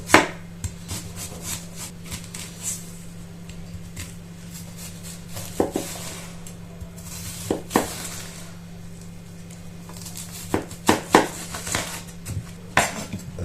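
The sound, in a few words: knife finely chopping onion and carrot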